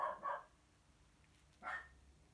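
A dog barks faintly in the background, two quick yips at the start and one more about a second and a half later, with quiet room noise between.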